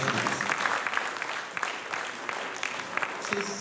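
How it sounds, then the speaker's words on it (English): Sustained, dense applause from a crowd at a multicultural show hosted by a secondary college, steady and fairly loud throughout with a slight dip midway and some voices mixed in. "Can we have a round of applause, please?"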